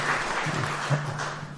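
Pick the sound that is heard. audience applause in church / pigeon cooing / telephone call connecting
audience applause in church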